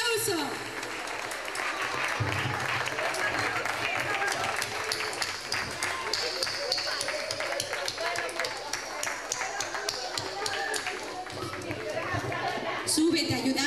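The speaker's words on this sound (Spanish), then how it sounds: "Un aplauso." Sustained applause from an audience, dense steady clapping with crowd noise throughout, fairly loud and continuous.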